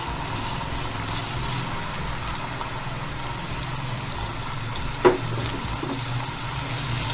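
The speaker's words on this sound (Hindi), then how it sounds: "प्याज हमारे फ्राई हो रहे हैं।" Onions fry in a pan for chicken pulao with a steady, close sizzle that does not let up, broken by one brief knock or clink of a utensil partway through, and no talking.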